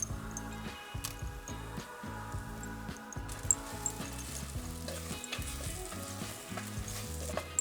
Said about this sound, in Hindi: इसे हम 2 से 3 मिनट सौटे करेंगे।